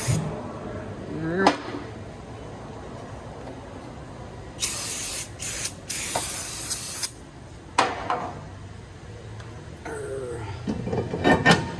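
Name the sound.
aerosol spray onto brake parts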